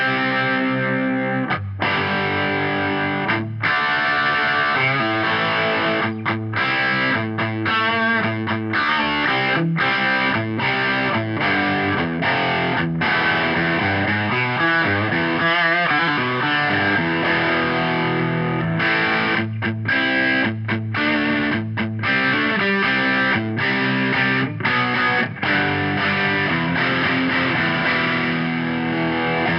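A BC Rich Warbeast electric guitar plays through a medium-gain distorted tone with both the bridge and neck pickups. Loud, thick chords and riffs run continuously for half a minute, with short choppy stops between phrases.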